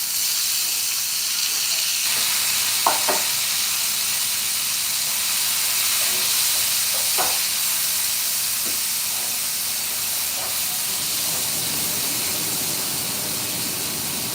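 Vegetables, broccoli among them, sizzle in a pan of oil with a steady, even hiss throughout, while a few faint clinks and taps sound above it.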